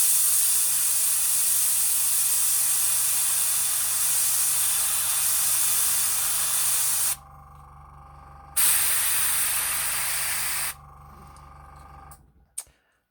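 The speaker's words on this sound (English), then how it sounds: "So as I spray the inside of this blue, I'll try and get this side as well a little bit." An airbrush sprays blue paint onto a Necron Cryptek miniature with a loud, steady, close hiss. It stops briefly, resumes for a couple of seconds, then cuts off.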